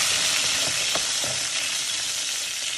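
Extra-virgin olive oil with a garlic clove, celery and carrot frying in a pot gives a steady, dense sizzle close by, with a few soft stirring knocks early on and no talk.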